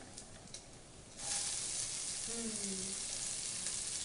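Onion dropped into hot rendered bacon fat for baked beans bursts into a loud, steady sizzle after a quiet second, frying on continuously close by.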